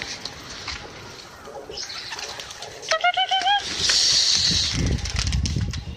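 Mokhya pigeons on a rooftop give soft, breathy coos, with brief bird calls and a flutter in the middle, heard close amid outdoor background noise and faint rustling.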